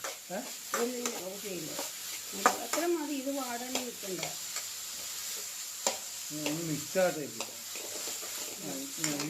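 Cucumber sautés in a pan for vegetable soup, a soft steady sizzle with stirring scrapes underneath, while a voice speaks on and off over the cooking.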